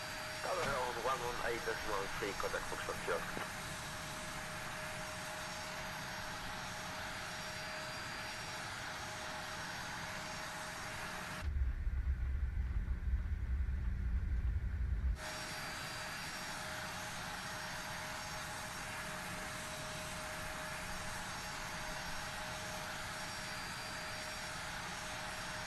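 A CRJ jet's engines spooling up in a flight simulator, heard as a steady whining roar, with one brief deeper rumbling burst partway through.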